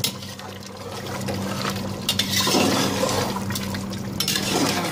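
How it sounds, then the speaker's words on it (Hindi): Punjabi-style meat and potatoes frying in a pot on a stove, a steady broadband sizzle that swells slightly midway and continues without speech. "चूल्हा मैंने बंद कर दिया था, दोबारा ऑन कर देते हैं, ठीक है। इसको भूनते हैं।"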